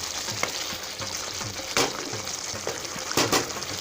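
Chicken for a Bengali Maharani chicken curry is stir-fried in a pan, with a dense continuous sizzle and a few sharper scraping stirs, close and steady, no talking.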